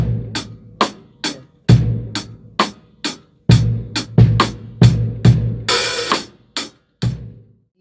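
Two bars of drum kit groove played close up: steady hi-hat ticks over bass drum thumps and crisp snare backbeats, with an open hi-hat wash near the end before the pattern settles, no voices.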